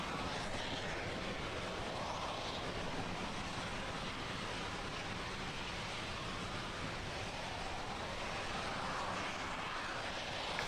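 A SpaceX Falcon 9 rocket's first stage engine burns during the CRS-14 Dragon launch, a steady, dense, distant roar like rushing wind that holds constant throughout without voices.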